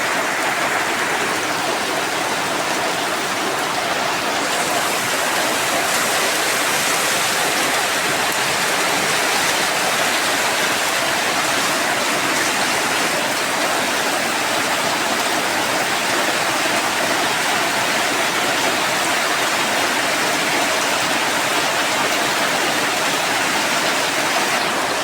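Heavy rain pours down without a break, a loud, dense, even hiss with no voices or pauses.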